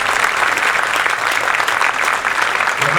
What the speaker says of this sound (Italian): merito un altro tocco di applauso